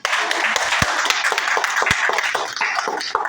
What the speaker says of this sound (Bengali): সবাই একটা জোরে তালি মারুন তো।